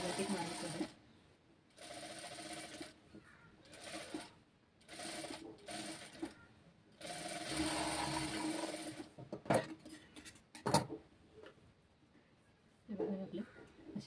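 A sewing machine stitches a princess-cut blouse in bursts of whirring, running for a second or two at a time with pauses, then stopping for clicks and small handling noises.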